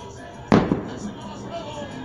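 A firework bomb bursts from a burning castillo at a festival in San Miguel Ameyalco, one sharp loud bang followed by a smaller crack, with crowd noise and a voice continuing underneath.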